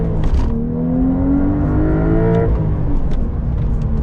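A 2023 Porsche 911 Carrera T with a manual gearbox pulls hard from inside the cabin, its engine note climbing in pitch through a rev, then dropping off as the next gear goes in.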